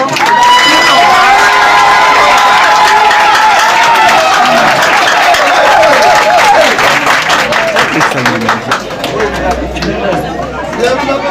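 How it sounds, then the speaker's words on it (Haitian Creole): A crowd at a conference gathering gives a big round of applause, with loud sustained clapping mixed with cheers and chatter that gradually thins out toward the end, while a voice speaks over it. "Un gros applaudissement pour mesdames."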